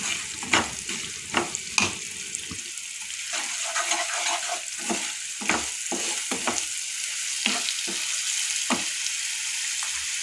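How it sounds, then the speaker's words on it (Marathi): Chili powder, turmeric and onion-garlic masala sizzle steadily in a hot pan, with repeated scraping and stirring strikes of a spoon against the metal at an irregular pace and no talking. "हळद पावडर, कांदा लसूण मसाला आपण हे मस्त परतवून घेणार आहोत।"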